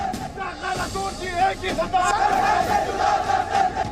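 A Muslim community protest crowd chants slogans in loud rhythmic unison, repeated call-like phrases rising over a dense babble of many voices.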